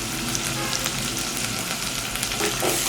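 Beef with salt and turmeric being stirred and sautéed in a pan for beef curry with chickpea dal, giving a continuous loud sizzle with soft stirring scrapes throughout.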